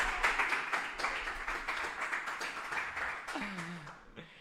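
A small studio audience claps steadily in a soft, continuous patter that fades toward the end, with a voice briefly heard near the close.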